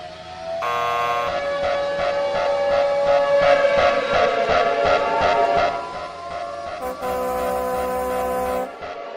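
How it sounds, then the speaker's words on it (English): A loud electronic alarm blares with a harsh buzzing, multi-toned wail that bends downward midway, cuts out, then returns before stopping abruptly. "Sound the alarm!"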